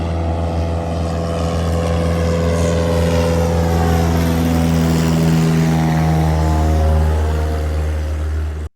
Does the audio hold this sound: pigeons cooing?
no